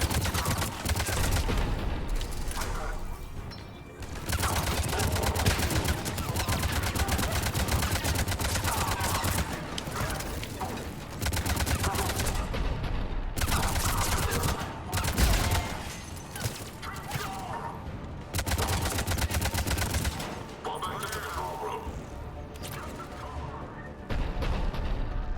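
Turret gunfire in the video game Mass Effect 3 rattles in long, dense bursts of rapid shots, loud and close, with brief gaps between volleys over a steady background of combat noise.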